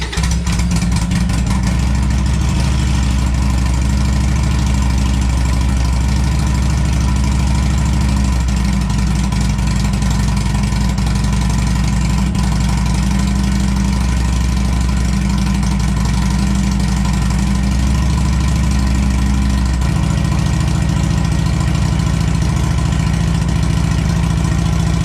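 A Harley-Davidson motorcycle fitted with a Cobra El Diablo 2-into-1 exhaust idles loudly and continuously at close range, a steady low throbbing rumble with a slight shift in tone near the end, no voices.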